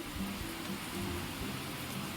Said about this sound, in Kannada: ಫುಲ್ಲು ಮಳೆ ಜೋರಿದೆ ಇವತ್ತು